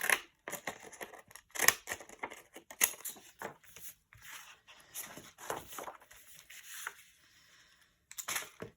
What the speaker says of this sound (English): And we'll cut off this top part.